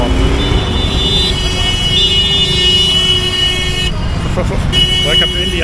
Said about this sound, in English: what's up with the honking here?